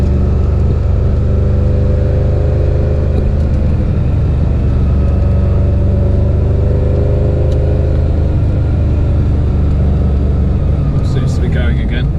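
A Ferrari Dino 308 GT4 engine drones steadily and low while the car drives down a mountain road, a continuous rumble without clear revs or gaps.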